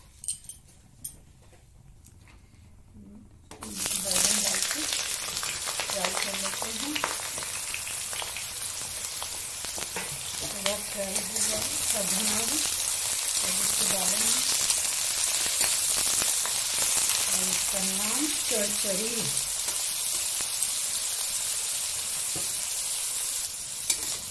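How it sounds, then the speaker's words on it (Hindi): Eggplant and mixed vegetables frying together in hot oil for a Bengali chorchori, a steady close sizzle starting after a quiet few seconds, with repeated stirring scrapes and spatula clinks throughout. "अब इसको तेल में फ्राई करेंगे और बैगन को भी फ्राई करेंगे"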